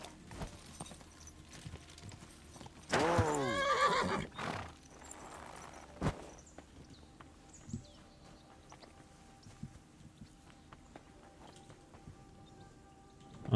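A horse in the medieval role-playing game Kingdom Come: Deliverance II gives one loud, wavering whinny that lasts about a second and a half, with faint hoof clops and game ambience before and after it.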